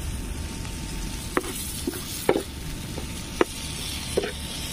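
Onions frying with boneless meat in a pan at an outdoor campsite, a soft steady sizzle broken by a few sharp clicks and scrapes of stirring, close and fairly quiet.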